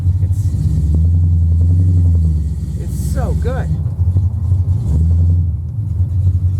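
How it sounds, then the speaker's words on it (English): A hot rod's deep, throaty engine rumbles loudly and steadily up close at Atlanta Motor Speedway during the 2023 Hot Rod Power Tour, surging a bit, while a person speaks briefly over it. "can you hear that car? Does it not sound fantastic?"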